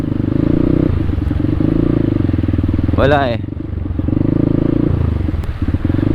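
Motorcycles, ridden by delivery riders, push through flood water in Malolos City during habagat monsoon flooding, with a steady loud engine drone throughout. A person talks over the engine noise.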